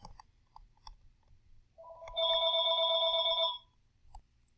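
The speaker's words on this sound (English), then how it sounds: "Sorry for the phone ringing." A home telephone rings in one sustained electronic burst of about two seconds, clear and moderately loud against a quiet room with a few faint clicks before and after.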